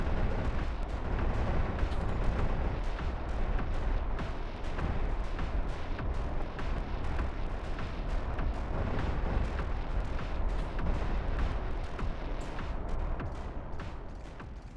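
Upgraded machine guns fire nonstop in the underwater video game Codename: Ocean Keeper. The dense, rapid, booming bursts run as an unbroken barrage throughout, loud and close, with no voice over them.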